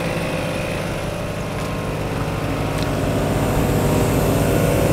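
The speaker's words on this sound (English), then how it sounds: "So we know that rear compressor will go faster," An ARB twin air compressor runs steadily while inflating a tire, producing a constant loud mechanical drone with a fast even pulsing throughout and no pauses.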